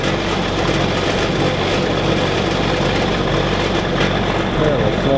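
A John Deere 8960 tractor runs after a cold start, its engine a steady, loud, dense rumble that holds unchanged throughout, with a voice speaking faintly beneath it.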